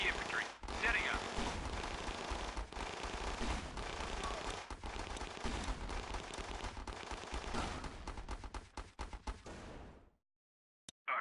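Sustained gunfire from the strategy game Battle Islands Commanders, dense loud volleys of rifle and machine-gun fire with artillery thumps that rattle on for about ten seconds before cutting out, with a voice briefly under the battle.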